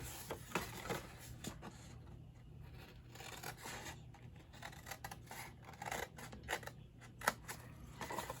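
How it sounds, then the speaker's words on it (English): Scissors snip through paper or card while making a flip-top treat box, a series of close, crisp cuts and rustles at an uneven pace. "If I can operate the scissors today"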